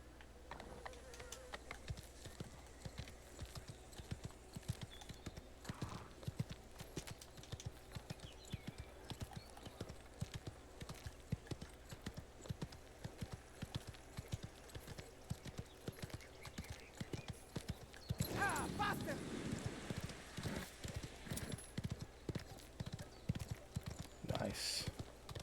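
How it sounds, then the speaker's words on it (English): Horse hooves clip-clop steadily in the video game Mafia: The Old Country, a continuous rhythmic trot with insect-like buzzing ambience and a brief louder burst near the end. "Beautiful horse, huh?"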